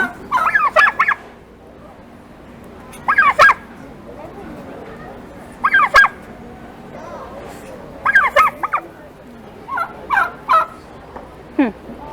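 A turkey at a 2022 poultry show gobbles loudly and close by in repeated rattling bursts every couple of seconds, with quieter calls between them over a low background murmur.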